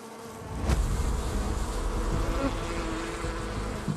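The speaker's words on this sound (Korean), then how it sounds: "꿀벌은 그들만의 공동체 면역 시스템을 만든 건데요" Korean honeybees hum as a dense, steady swarm buzz that fills the whole clip, loud and close, with a single bee whining briefly nearer early on.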